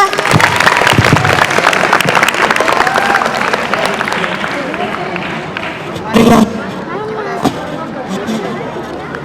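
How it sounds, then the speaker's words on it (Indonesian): Audience applause at a school event on Betawi local culture and Marunda batik, a dense wash of many hands clapping that gradually thins, with crowd chatter mixed in. "Boleh dong tepuk tangan"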